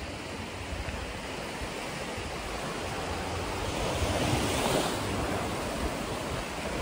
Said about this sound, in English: Listen to them oceans, guys.